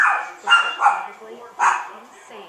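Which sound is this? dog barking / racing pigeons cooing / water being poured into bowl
dog barking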